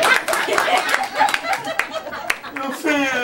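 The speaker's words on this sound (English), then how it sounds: "Let's all give her a round of applause for being a knucklehead." Scattered clapping from a small group during a training session, uneven hand claps mixed with chuckles and voices talking over them.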